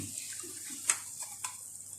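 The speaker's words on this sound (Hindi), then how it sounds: "आधा कप के करीब आप पानी कर लूँ इसमें।" About half a cup of water poured into vermicelli in a pan for a sweet zarda dessert makes a soft, brief splashing trickle with a couple of light clinks, quiet and close.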